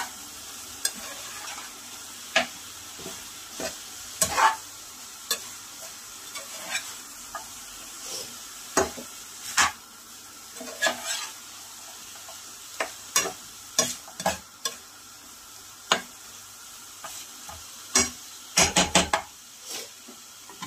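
Cloves and cinnamon fry in hot oil for mutton kosha, a soft continuous sizzle broken by irregular clinks and scrapes of a spoon stirring against the pan, with a quick flurry of knocks near the end.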